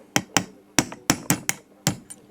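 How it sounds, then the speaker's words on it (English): A hammer taps a rivet down on a Hornby Dublo model train coupling held in a vise. Eight or so sharp, close metallic strikes land in an uneven rhythm with brief gaps between them. "tap it down like so."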